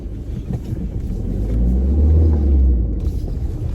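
A turbocharged Ford Fiesta drives along with a deep, steady engine rumble heard from inside, swelling slightly in the middle and then easing, with no voices.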